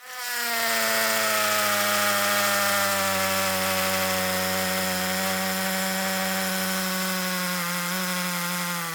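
Ronix 8615 cordless drill driver spinning up and running at a steady, high-pitched whine for several seconds, close and alone, slowing slightly near the end.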